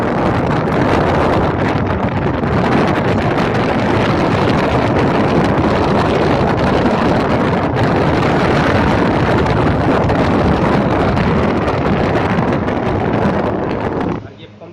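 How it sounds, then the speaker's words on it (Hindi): Motor of a plastic three-speed air cooler running with a loud, steady roaring whoosh of rushing air close to the microphone, holding constant for the whole stretch before cutting off abruptly at the end. "ये देखिए मोटर चालू है"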